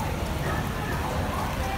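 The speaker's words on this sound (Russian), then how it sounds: "Достал меня дождь." Steady rain in Macau patters and hisses on surfaces, a dense, even wash of drops close by without pause.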